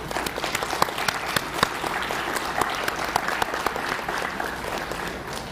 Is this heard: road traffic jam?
no